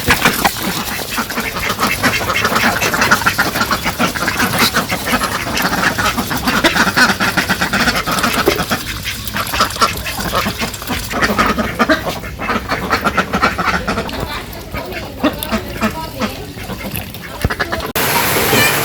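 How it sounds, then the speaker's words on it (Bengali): A group of village ducks returning home in the late afternoon quack repeatedly and loudly nearby, a busy overlapping chorus over the whole stretch, with occasional speech mixed in. "এদিকে আমাদের বিকেলে হাঁস এসে পড়ছে বাড়িতে"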